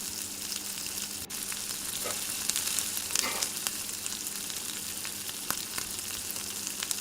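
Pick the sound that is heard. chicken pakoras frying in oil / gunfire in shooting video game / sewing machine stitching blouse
chicken pakoras frying in oil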